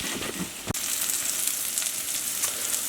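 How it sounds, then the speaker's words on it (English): Mushrooms sauté in a hot pan for an omelet, giving a steady, close sizzle with a single sharp clack near the start, likely a utensil against the pan. "now we're going to add the mushrooms, cook those just a little bit"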